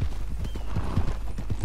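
A horse's hooves clip-clop in a quick, steady gait in the video game Red Dead Redemption 2, close and distinct, with a low rumble of movement beneath the rhythmic strikes.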